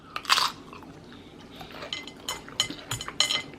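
Close-up biting and chewing of a Sloppy Joe on a hamburger bun with corn, several wet crunchy bites at irregular intervals, no talking.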